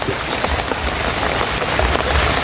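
Steady rain pattering on a surface, a dense continuous hiss with scattered drops, fairly loud and close, no voices.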